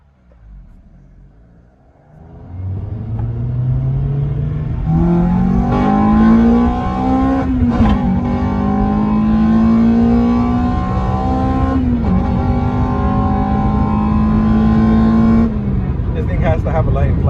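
A Honda K20A2 engine in an Acura RSX revs hard through the rev range with rising pitch, climbing several times with brief dips, loud and close, while people talk over it.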